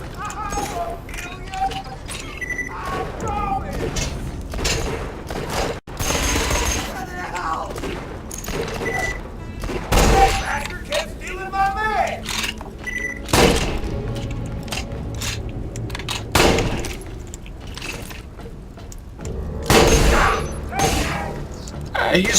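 Jakobs shotgun firing in the first-person shooter Borderlands 2, heavy booming blasts repeated every few seconds amid game effects, clanks and impacts, with a voice talking over the action.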